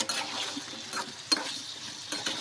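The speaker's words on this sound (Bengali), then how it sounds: "এভাবে সুন্দর করে একটু নাড়িয়ে নিতে হবে" Papaya chicken curry being stirred in a pan, with soft scraping and a faint sizzle in a few quiet, uneven strokes close by.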